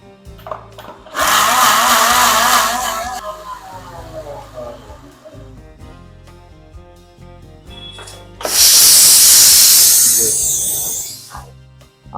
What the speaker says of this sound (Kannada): ಮುಚ್ಚಳ ಮುಚ್ಬಿಟ್ಟು ಇದನ್ನ ಮಿಕ್ಸಿನಲ್ಲಿ ರುಬ್ಕೋಬೇಕು